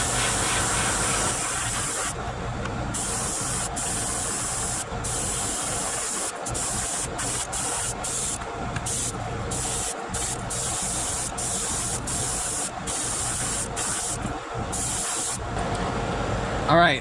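An airbrush sprays a white base coat of paint onto a fishing lure, giving a continuous, close hiss that is broken by several short pauses as the trigger is released.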